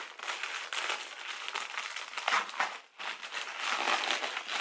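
Plastic packaging on a cosmetics parcel crinkles and rustles continuously and close as it is torn open, loud and dense throughout with no speech.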